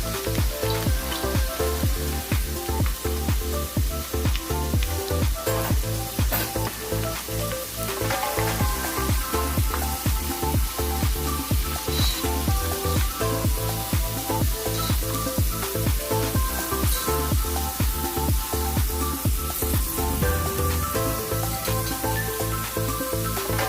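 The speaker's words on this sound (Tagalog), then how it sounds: "So ito guys, malapit na mag-golden yung ating garlic." Garlic sizzling and frying in hot oil as it turns golden brown, while peanuts are being cooked; a dense, steady crackle with popping runs loud and close throughout, with no voices.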